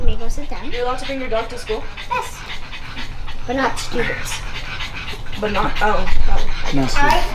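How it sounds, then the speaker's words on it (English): A dog pants quickly and audibly inside a classroom, with a rapid breathy rhythm heard close by beneath overlapping voices of students and a teacher talking. "What is going on over there? That's my dog."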